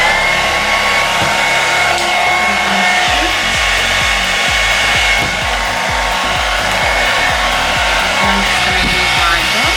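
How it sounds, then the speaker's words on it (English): A handheld blow dryer drying short 4C hair gives off a loud, steady whir throughout, with rhythmic brushing or rubbing strokes joining partway through. "I got my blow dryer."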